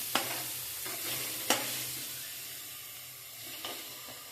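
Carrots frying in a pan for pasta give a steady, moderate sizzle close by, with a few sharp spatula clicks against the pan.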